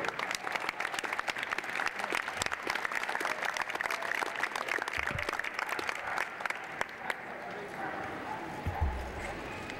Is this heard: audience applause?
yes